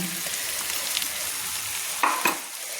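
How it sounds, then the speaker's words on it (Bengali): Mustard masala paste for a tilapia curry being stirred in hot oil with a metal spatula, a continuous close sizzle broken by a couple of louder scraping strokes near the end. "ভালো করে আমি একটু খুন্তি দিয়ে নেড়ে নিচ্ছি"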